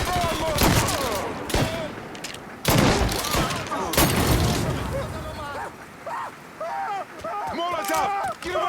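Loud gunfire in the Mafia 3 video game: dense bursts of shots and automatic fire crackle in close succession while voices shout and yell over the combat.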